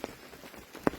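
Rain falling on a moss garden in Nainital during the monsoon, heard as a soft, steady patter with a couple of sharper drip hits standing out near the end.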